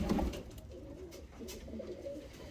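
Soft cooing of breeding pigeons close by in a coop, low throaty murmurs repeating over a faint background hum.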